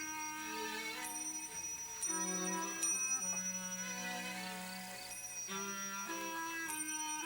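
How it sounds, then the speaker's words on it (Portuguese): Small bells set at equal distances along a track ring as rolling spheres pass them, a series of bright metallic dings at uneven intervals, each ringing out and overlapping with sustained tones. "No trajeto das esferas, em distâncias idênticas, ele coloca pequenos sinos que tocarão quando elas passarem."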